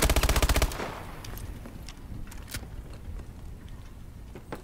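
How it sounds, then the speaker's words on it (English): A rapid burst of machine gun fire from Call of Duty Exo gameplay, loud and close for under a second, then quieter game sounds with a few scattered clicks and distant noises. "I'll take the bullets like a man."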